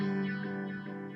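A Mu-Tron Bi-Phase phaser sweeps back and forth on its square-wave setting, a short, sustained processed tone with abrupt shifts that fades slightly toward the end.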